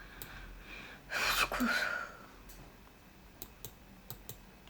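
Computer keyboard keys click during a game of Geometry Dash, a handful of faint, separate taps that follow a short breathy burst of noise.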